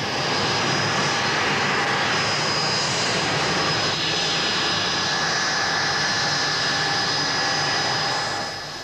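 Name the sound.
Buccaneer jet aircraft engine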